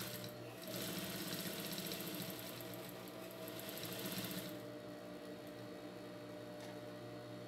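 A sewing machine stitches a cotton face towel, its steady mechanical whir running close and continuous, briefly louder with fast stitching before settling into a quieter hum.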